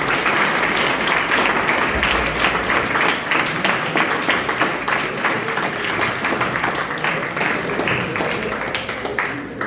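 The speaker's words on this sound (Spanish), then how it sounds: "les pido un fuerte aplauso para todos" A school audience gives loud, dense, sustained applause after a secondary school student debate in Peru, the clapping continuing evenly throughout with a faint crowd murmur beneath it.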